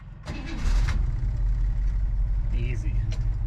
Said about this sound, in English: Possibly the last time I start this car before it's painted red.